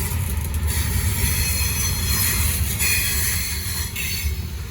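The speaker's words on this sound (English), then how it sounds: "pretty heavy train today." A heavy freight train of nearly 200 cars, weighing over 15,000 tons, rolls steadily past nearby with a deep continuous rumble, while metallic wheel squeals ring out on top, and no voices are heard.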